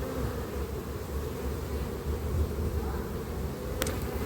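Honey bees in a crowded hive body, dense with bees, humming in a steady, continuous low drone with no talk over it.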